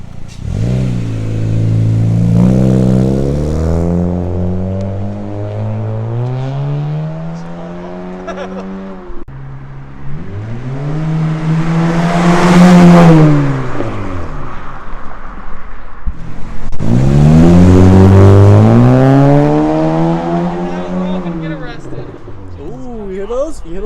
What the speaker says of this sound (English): Ooh, you hear those? You hear those pops? Yeah. It's exhaust.